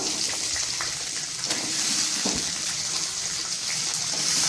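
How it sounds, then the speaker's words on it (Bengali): Green beans frying in a pan for a mixed vegetable dish, giving a steady, close hiss and sizzle throughout with a few faint clinks of utensils. "প্রথমে বিনসটা ভেজে দিয়ে দেবো"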